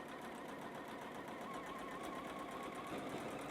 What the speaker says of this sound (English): Drop the presser foot again and keep on sewing.